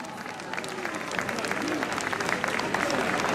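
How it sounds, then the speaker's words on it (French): Crowd applause at an outdoor evening concert on a town square in Algrange, a broad wash of clapping that swells slightly, with scattered cheers and voices mixed in. "Je vous demande de les applaudir comme il se doit."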